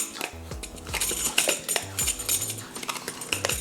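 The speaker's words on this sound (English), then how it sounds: "Give it another stir." Homemade body oil scrub being stirred in a bowl, a spoon scraping and clinking against the sides in irregular strokes, close and fairly quiet.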